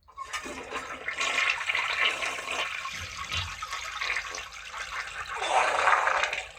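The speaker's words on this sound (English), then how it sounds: "I flushed him down the toilet, of course." A toilet flushing, a loud rushing gush of water swirling down the bowl that swells again near the end, heard alone with no talk.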